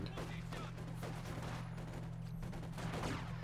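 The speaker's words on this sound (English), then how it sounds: "except it's the Maxim, here to save the day" Maxim machine gun firing in Company of Heroes 2 on the Soviet side, a faint rapid stream of distant shots blended into battle noise with a low steady hum underneath.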